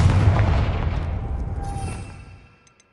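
Confringo fire spell exploding in Hogwarts Legacy, a single loud close blast with a rumbling tail that fades out over a couple of seconds.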